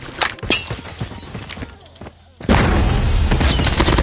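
Gunfire in Call of Duty Mobile: scattered shots under a man's speech, then a dense burst of loud rapid fire that continues to the end.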